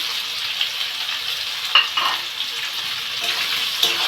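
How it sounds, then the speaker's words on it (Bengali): Onion and garlic fry in hot oil for a desi chicken curry, giving a steady, close sizzle with a few sharp crackles and stirring clicks throughout, with no talking. "পেঁয়াজটা ঢেলে দিই, রসুনগুলো দিয়ে দিব, ওর সাথে ভাজা হয়ে যাবে, ভিতরে তেলটাও ঢুকবে"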